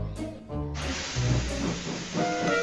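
Steady loud steam hiss from a steam locomotive puffing, with puffing surges and brief higher bursts over a low rumble, close by.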